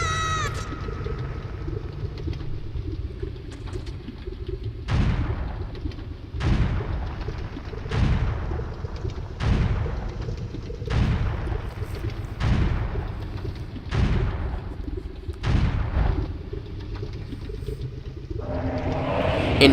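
Bombs explode in The Legend of Zelda: Ocarina of Time. About ten heavy booms, each with a decaying tail, follow one another at a steady rhythm of roughly one every one and a half seconds over constant game background sound.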